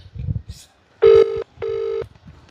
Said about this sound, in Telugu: ఫోన్ రింగ్ అవుతుంది, ఆన్సర్ చేయట్లేదు.